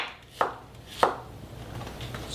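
Two sharp knife chops through an apple on a board, spaced about half a second apart, close and fairly quiet with a faint room hum between them.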